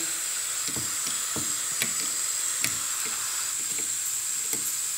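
Compressed air applied to a rack and pinion valve actuator, a continuous high, even hiss close by with faint irregular ticks and knocks underneath; no talking.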